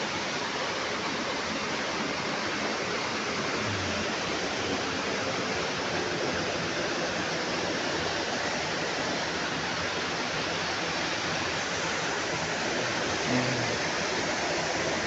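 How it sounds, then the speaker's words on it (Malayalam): A river rushes along near a waterfall close to a dam reservoir. The roar of water is steady, dense and unbroken, and no voices or other sounds come through. "ഇവിടെ താഴെ ഒരു വെള്ളച്ചാട്ടമുണ്ട്."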